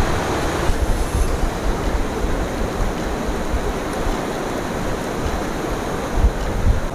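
Fresh water of the Yamne river in Arunachal Pradesh flowing, a loud, constant broadband rush close to the microphone, steady throughout without speech.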